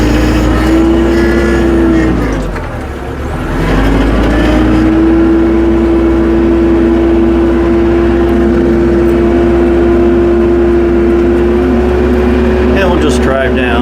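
Tractor fitted with pewag Doppelspur snow chains rolling down a snowy driveway, its engine droning steadily up close with a brief dip in power, then a sustained even hum.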